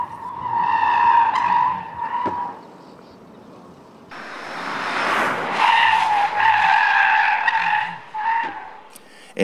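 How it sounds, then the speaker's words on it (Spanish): A 2020 Peugeot 2008 makes shrill, sustained tire squeals during a high-speed dodge maneuver, then a burst of rushing noise, then more loud skidding squeals, with no talking. "Las ruedas delanteras tienden a deslizar más que las traseras, es decir, se produce un subviraje más o menos acusado en función de la velocidad de entrada"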